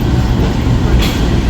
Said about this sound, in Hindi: 102 डाउन सुर रफ्तार रेलकार अराइव कर रही है प्लेटफॉर्म नंबर 8 पर